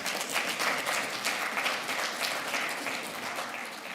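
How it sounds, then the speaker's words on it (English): Audience applause at a Canada–Nigeria business summit and awards gala, a dense, steady burst of clapping from a crowd filling the room throughout. "Give me applause."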